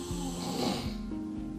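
A man snores in a sleep apnea test: a few deep, rattling snore pulses repeat steadily against a continuous room hum, close and fairly loud with no talking.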